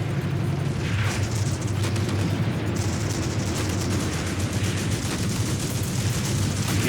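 Dense, continuous battle din in the tank game Tank Warfare: Tunisia 1943, with Sherman tanks and infantry: heavy rumbling booms and cannon and artillery blasts pile up into a steady, loud wall of explosions with no clear gaps.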